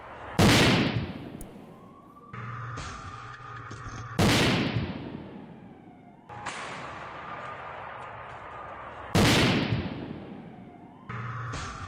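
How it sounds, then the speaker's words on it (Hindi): Russian 152 mm artillery fires on Ukrainian positions. Three heavy, sharp blasts about four seconds apart each roll off into a long echoing rumble, and each is followed by a fainter secondary thump and trailing whine. "यूक्रेनी ठिकाने पर अंधाधुंध बरसाए गए गोले।"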